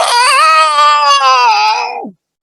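A human voice imitates a Roger Waters style inhaled scream, a loud, sustained, harmonically rich shriek lasting about two seconds before it drops away abruptly into silence.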